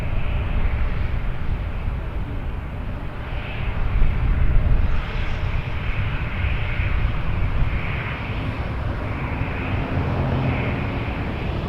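At Toronto Pearson airport, a departing airliner roars in a steady, broad jet-engine rush heard from a distance, swelling slightly midway and holding a constant level throughout with no talking.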